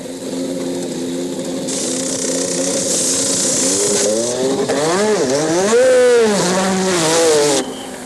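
1986 Formula 1 race cars scream past on track, loud high-revving engines rising and falling in pitch with a Doppler sweep as cars pass close by, continuous and without talk.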